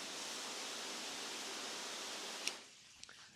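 Water spraying hard from a RecDec 0.4 shower nozzle on a garden hose, a loud, steady hiss that cuts off abruptly near the end, followed by a few faint drips and clicks.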